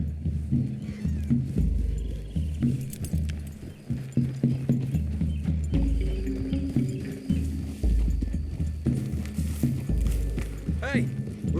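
Horses clip-clopping through trees in Red Dead Redemption 2, hooves plodding steadily under a dense mix of game score and ambience, with voices talking over the ride.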